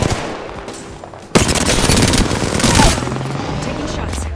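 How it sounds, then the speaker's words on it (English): Rapid automatic gunfire rattles out in Apex Legends Season 5 on Xbox. Quieter game sounds come first, then a loud sustained burst of shots that tapers off into lingering battle noise, with a voice partly underneath. "Darn shots fired and they're hitting me"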